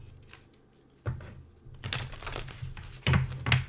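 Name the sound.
shuffling a deck of cards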